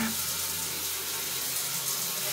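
Water driven by an automatic booster pump runs steadily out of a household faucet, a constant hissing, splashing stream with a low pump hum beneath it, no talking.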